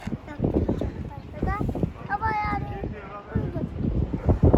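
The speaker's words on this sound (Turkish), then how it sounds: "Çok rüzgar var mı?" Strong wind at Çeşme Castle in İzmir buffets the microphone in loud, rumbling gusts while someone speaks and a few other voices are heard briefly.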